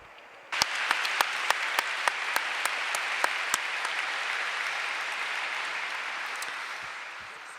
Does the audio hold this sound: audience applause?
yes